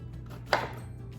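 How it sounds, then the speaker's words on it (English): A single sharp knife chop through jalapeño peppers on a cutting board, one brief close thud against a steady low background hum, with no voices. "I won't force you to watch all of the chopping and the slicing and the dicing"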